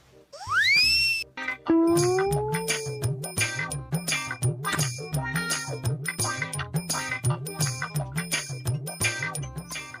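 A bright rising chime opens, then a looping electronic mobile phone ringtone plays a bouncy repeating melody, loud and close, with no voices.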